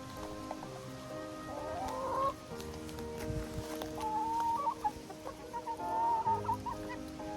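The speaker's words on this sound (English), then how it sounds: "I'm gonna let the chickens out and I'm gonna feed them some treats." Chickens cluck and murmur softly nearby, with a few higher squawks rising over a steady low background hum.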